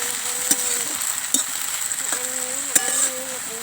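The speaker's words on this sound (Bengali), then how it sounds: "নেড়ে চেড়ে এগুলোকে ভালো করে ভেজে নিতে হবে।" Onion greens stir-fried in a hot pan of oil, a steady close sizzle broken by a few sharp scrapes and clinks of the spatula, with no voices.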